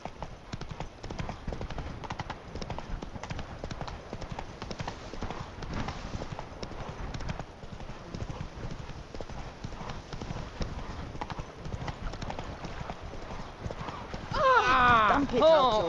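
Roach the horse gallops in The Witcher 3, a steady, rhythmic clip-clop of hooves throughout, with in-game voices over it and a brief whinny-like swell near the end.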